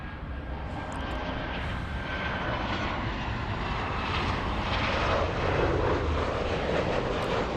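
Passing airliner jet engines near Los Angeles make a broad, steady roar that slowly builds in loudness, with no voices over it.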